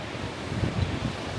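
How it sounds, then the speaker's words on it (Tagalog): Strong wind at a campsite roars and buffets close to the microphone in a brief, rough, low rumble that swells slightly, with no speech. "Sobrang lakas ng hangin."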